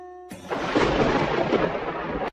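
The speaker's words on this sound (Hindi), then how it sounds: "ये बिना मौसम की गरजती हुई बारिश हमें क्या संकेत देती है?" Thunder with rain from an unseasonal storm breaks in abruptly as a loud, broad rumbling roar, holding for about two seconds before cutting off, with no voices.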